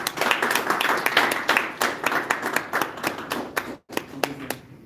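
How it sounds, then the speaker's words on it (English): Audience at a Toastmasters club meeting in Gurgaon claps steadily for several seconds, a dense, close patter of many hands with a brief gap near the end before a few final claps. "Let's welcome Toastmaster Sunny with a huge round of applause."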